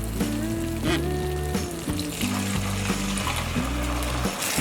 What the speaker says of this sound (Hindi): अब हम इसमें डालेंगे ये केसर मिल्क